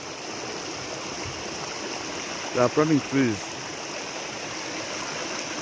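A village stream in Kenya flows in a continuous close rush of water, steady throughout, with a short spoken phrase rising briefly over it partway through.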